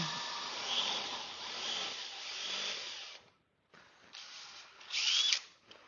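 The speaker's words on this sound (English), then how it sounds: "I go in and I drill a hole in the end" A power drill whirs loudly into the end of a stainless steel rifle barrel, stops briefly, then starts again, rising to a sharper, screeching grind before winding down.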